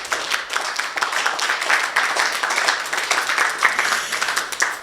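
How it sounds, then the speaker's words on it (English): An audience applauds after a talk on opposing CO2 pipelines and eminent domain, a steady patter of many hands clapping at moderate loudness throughout, with no voices over it. "Let's have a round of applause for her."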